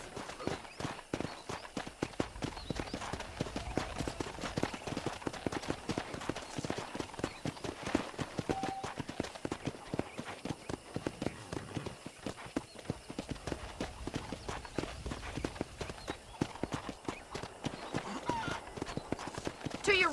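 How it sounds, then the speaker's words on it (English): A horse being ridden in Red Dead Redemption clip-clops in a brisk, continuous rhythm of hoofbeats on dirt, with an occasional whinny, while a voice talks quietly underneath. "let's see if you can still ride a horse"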